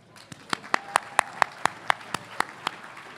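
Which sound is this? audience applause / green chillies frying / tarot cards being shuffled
audience applause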